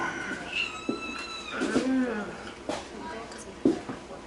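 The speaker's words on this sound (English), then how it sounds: "The cat wants to taste it." A cat meows in short, high, plaintive calls several times beside a kitchen where brisket is being eaten, the meows fairly close and mixed with quieter sounds of people nearby.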